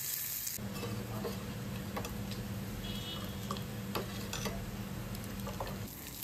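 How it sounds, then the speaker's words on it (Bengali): Chopped onion is stirred in a pan and fries with a low steady sizzle, broken by light ticks and scrapes of a utensil against the pan, close but quiet, with no talking. "সব কিছু ভালোভাবে নেড়ে চেড়ে একটুখানি ভেজে নিতে হবে"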